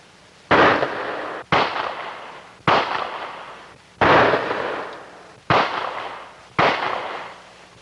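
Six sharp gunshots from a hair-trigger pistol with a cut-out hammer, spaced roughly a second apart, each a loud close crack followed by a brief decaying echo, with no talk.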